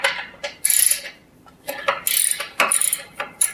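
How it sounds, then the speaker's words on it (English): A ratchet fitted with a 7/16 inch socket loosens the bolts holding the refractory stone baffle inside a HearthStone stove firebox, giving quick bursts of sharp metallic clicking repeated several times, close up, with no talk. "You'll do this with a 7/16 inch socket, as Jason will demonstrate."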